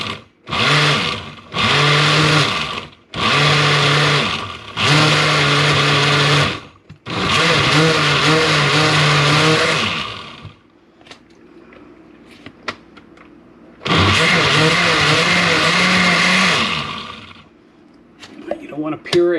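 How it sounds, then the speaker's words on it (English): A blender pulses tomatoes and salt into salsa in about six loud, close bursts of whirring motor, each one to three seconds long, separated by short pauses, with a longer quiet gap before the final burst. "So pulse it a couple times until you get really good looking salsa."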